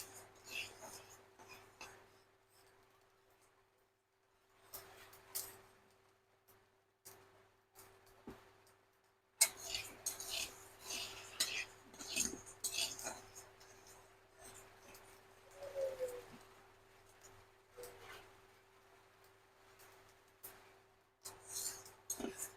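Rice dry-roasting in a pan for chaal bhaja, stirred with a utensil: close, intermittent scraping and gritty rustling that grows busier and louder partway through, over a steady faint hum, with no talking.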